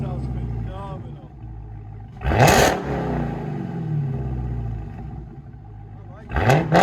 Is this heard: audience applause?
no